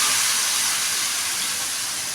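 Ground masala paste poured into a hot pan of sautéed shallots, green chillies and curry leaves for an okra gravy, giving a steady, loud broadband sizzle that holds evenly throughout with no talk.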